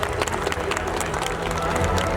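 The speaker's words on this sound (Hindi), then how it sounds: "give a huge round of applause to all of them" A crowded school annual day audience applauds, a dense, steady wash of clapping mixed with crowd noise and a voice speaking over it.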